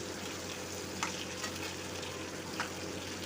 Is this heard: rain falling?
no